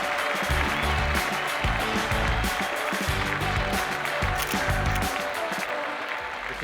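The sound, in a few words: audience applause for pageant winners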